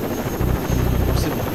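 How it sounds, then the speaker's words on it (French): Helicopter in the video game Rainbow Six Vegas, a steady low rotor drone with a pulsing chop, loud and continuous beneath the game's mix. "On va rentrer dans l'hélico."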